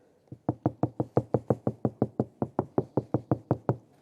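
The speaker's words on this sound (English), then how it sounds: "So I'm going to knock on this door and show you exactly what it sounds like." Knuckles rapping on the door of a VW Golf GTI, a quick even series of about twenty close, solid knocks in a row with no talking.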